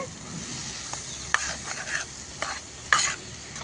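A spoon stirs onions through a dhaba-style vegetable curry in a pan, giving scraping, clinking strokes at uneven intervals over a soft, continuous sizzle.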